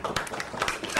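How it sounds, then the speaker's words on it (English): A seated audience at a Rotary dialogue event breaks into clapping, a brief burst of scattered, fairly close hand claps in quick irregular rhythm, with no talk over it. "please don't clap for me"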